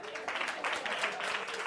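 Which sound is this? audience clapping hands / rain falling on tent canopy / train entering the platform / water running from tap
audience clapping hands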